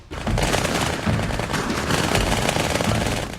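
Dual-wielded submachine guns in Halo 2 fire in one loud, continuous rapid burst, a dense, unbroken rattle of shots lasting a few seconds.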